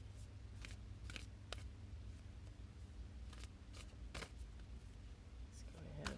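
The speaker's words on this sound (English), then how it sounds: "Right now we are shuffling the card of the day." Tarot cards are shuffled in a quiet room, giving a series of soft, scattered riffles and crisp slaps at an irregular pace.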